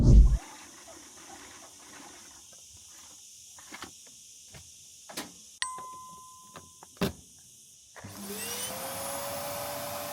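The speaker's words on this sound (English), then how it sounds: "We have to vacuum every day." A household vacuum cleaner in a dusty home switches on near the end, its motor whine rising into a steady roar after a quiet stretch of scattered clicks, knocks and a short electronic beep.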